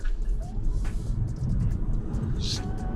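A 2025 Honda Civic Sport Hybrid pulls away from a standstill, a steady low engine and road rumble building under continuous broadband noise, with a brief sharp high hiss near the end.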